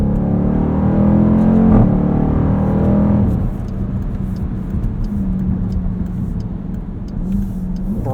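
A 2020 Dodge Durango SRT engine in track mode, a loud, deep roar that builds, then drops to a lower steady rumble as the SUV keeps rolling.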